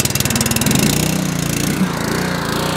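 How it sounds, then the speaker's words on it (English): A pressure washer's small gasoline engine putters and runs steadily close by, with a rhythmic mechanical chug and no talking. "Flip your switch up for your engine and crank it."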